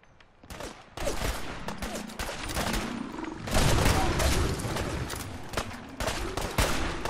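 Gunfire in Fallout 4's Far Harbor, with loud, dense volleys of shots and rattling bursts piling up nearby amid battle noise and some talking.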